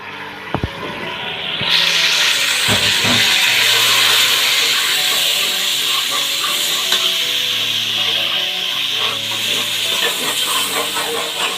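Onions, tomato and ginger-garlic paste sauté in a pan for a Madurai-style crab soup, giving a loud, steady sizzle with scraping stirs throughout and a couple of sharp knocks near the start.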